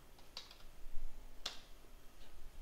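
Typing on a computer keyboard at a Raspberry Pi 4 running Ubuntu 20.04, a few sparse, faint key clicks in a quiet room, alone without talk.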